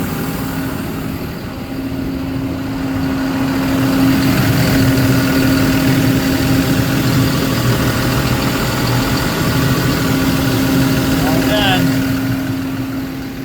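A Taylor X360M engine runs at a steady idle after being started following a new valve repair, its constant hum and low drone holding throughout without any talk.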